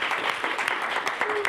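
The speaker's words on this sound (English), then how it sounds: "Can we give Monet another round of applause?" Applause breaks out among the members at a student government senate meeting, a brief burst of clapping from a roomful of people that continues throughout.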